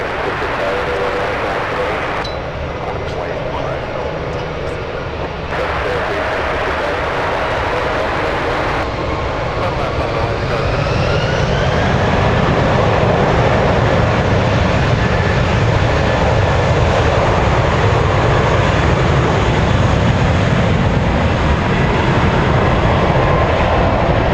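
An Airbus A319 takes off at San Francisco International Airport, its engine roar swelling from a distant rumble into a loud, sustained broadband thrust with a rising whine.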